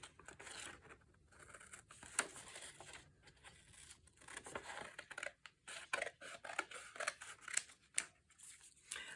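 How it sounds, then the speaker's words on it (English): Scissors snip and crunch through paper to cut a freehand tag shape for a junk journal, with close, irregular cuts and rustling between snips. "And I just cut the shape of a tag."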